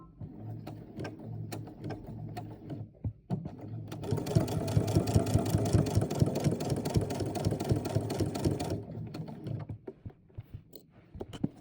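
A sewing machine stitches a quilted coat binding, starting with a few short bursts and slow needle clicks, then running in a fast continuous whir for several seconds before slowing and stopping.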